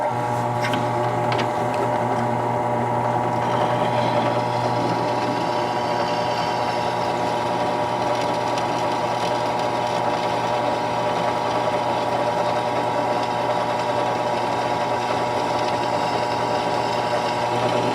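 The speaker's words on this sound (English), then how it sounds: "I'm drilling it small first, and I'm going to drill it 1/4 inch." An electric drill bores a small pilot hole for a 1/4 inch bolt, a steady continuous motor whine and grinding drone that holds evenly throughout at moderate loudness, with no talking.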